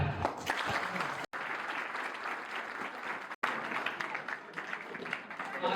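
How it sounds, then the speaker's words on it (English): Loud, sustained applause from an audience at a school achievers' felicitation programme, dense clapping for several seconds with a couple of brief dropouts. "let's start with our one big loud clap."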